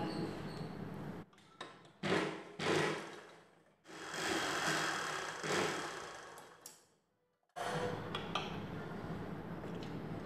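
Sewing machine running in repeated bursts while stitching a katori blouse, with short pauses and one longer silence between passes; moderate level, close by, with light handling knocks.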